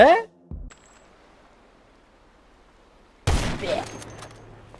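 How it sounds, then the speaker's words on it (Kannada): Sniper rifle fire in the video game GTA 5: two sharp, loud shots separated by about three seconds of near silence. The second shot is followed by a lingering, fading echo. "ನಾ ಸ್ನೈಪರ್ ತಗದ ಹೊಡೆದ್ ಬಿಡ್ತೇನೆ ಎಲ್ಲಾರ್ಗು"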